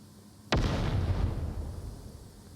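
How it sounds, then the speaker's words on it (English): A grenade explodes in the VR shooter Onward during a competitive league match. One sudden, loud close blast is followed by a rumbling tail that slowly fades. "Nades coming in now."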